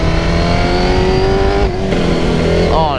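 A Honda CBR sport motorcycle engine revs hard and smooth, holding a steady high-pitched howl before dipping briefly and rising again, loud and close with no talking.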